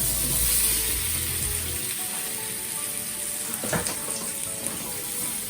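Drained potatoes tipped into a hot roasting tray give off a continuous sizzle and hiss, with a brief clatter partway through and steady frying noise continuing afterward, no voices.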